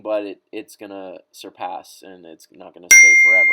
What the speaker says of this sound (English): sorry for the dings. That's my phone connecting to my laptop